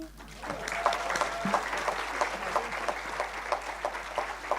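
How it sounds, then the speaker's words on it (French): Audience applause at a gathering about living with Friedreich's ataxia, rising from a quieter start into steady clapping with a few louder individual claps over a low, constant hum. "On peut vraiment les applaudir tous les 4."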